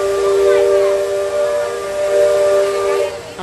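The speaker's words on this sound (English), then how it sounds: "you hear that, you know, the boat whistle." A riverboat's steam whistle sounds at Magic Kingdom, a steady, sustained tonal blast with layered pitches and a hissing edge, heard from some distance and holding for several seconds outdoors.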